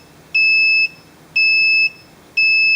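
Defi BF style oil pressure gauge alarm buzzer giving three evenly spaced, loud steady electronic beeps of about half a second each, with short silent gaps between them and no talk.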